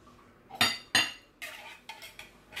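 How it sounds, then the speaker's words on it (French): A spoon clinks and scrapes against a bowl while baker's yeast is stirred into 250 ml of lukewarm water, giving a few bright close knocks followed by softer rhythmic swishing strokes. "Donc on remue."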